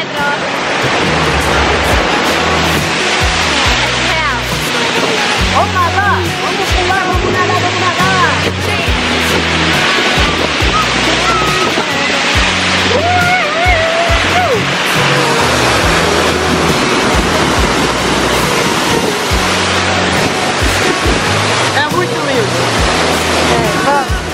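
A waterfall in Serra da Canastra, Brazil, pours in a loud, steady roar of rushing water that fills the whole stretch, with faint music mixed in underneath.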